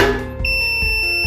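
The buzzer on a CAS CI120A weighing scale indicator sounds as a loud, continuous electronic tone, with a few soft clicks under it.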